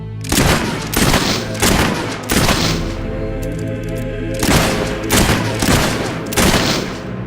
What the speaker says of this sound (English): scumbag shooting at us!